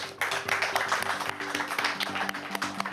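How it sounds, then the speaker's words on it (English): An audience applauds a contestant in a children's spelling quiz show, a Christmas episode: dense, steady clapping held at a moderate level for several seconds, with a faint musical tone running underneath. "Let's give her a big round of applause"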